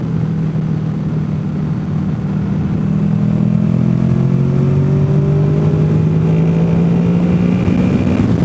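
Motorcycles riding along the Foothills Parkway rumble steadily close by, their engine pitch slowly climbing as they accelerate, with a mix of bikes droning together and no talk.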